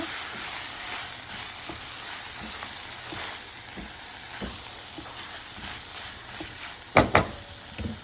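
Ridge gourd sautés in a pan, giving a continuous close hiss and sizzle with a few soft stirring taps, then two sharper scrapes near the end.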